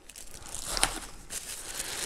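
Plastic bags crinkling close by while unpacking a Quntis LED computer monitor lamp, brief rustles with a sharp crackle near the start and softer crinkles afterward.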